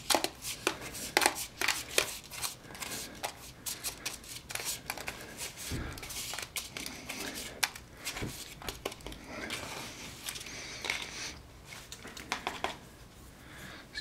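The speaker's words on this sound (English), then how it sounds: "I would chop it up into little pieces" Homemade borax and sugar ant bait being chopped into little pieces on a board: rapid, irregular knife taps and clicks in close, busy bursts, with brief quieter gaps between runs of cuts.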